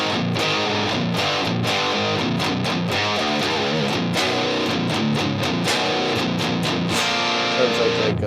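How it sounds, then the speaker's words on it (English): An electric guitar played through a Headrush MX5 modeler on a heavy Marshall-style 15-watt amp distortion chugs out dense, saturated riffs with choppy palm-muted stabs, loud and up front. "Sounds like a 15-watt Marshall amp distortion"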